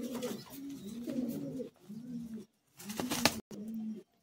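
An old-bloodline Madrasi pigeon coos in a series of soft, low, rolling calls with short pauses between them, close and fairly quiet, with no other sound.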